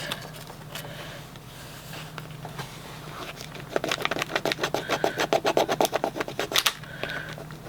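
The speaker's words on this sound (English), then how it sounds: "Burnishing that in so that it will stick well." Adhesive burnished onto a scrapbook page protector, quiet scraping at first, then a quick run of rhythmic rubbing strokes, close and fairly distinct.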